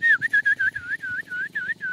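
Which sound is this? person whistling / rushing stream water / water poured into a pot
person whistling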